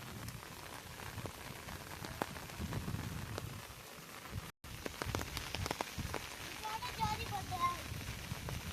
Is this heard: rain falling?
yes